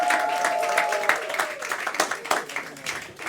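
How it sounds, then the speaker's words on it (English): A poetry slam audience claps in a dense, lively burst of applause, the patter rising and falling over a few seconds, with a voice briefly audible at the start. "Please give a round of applause for Andrew Grant."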